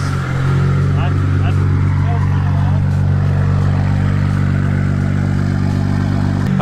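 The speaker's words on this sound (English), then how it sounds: "The fuel pump works!" Fuel-It Stage 2 bucketless low-pressure fuel pump running in a BMW 335i, a steady loud droning hum with a constant engine-like rumble throughout, close and unbroken.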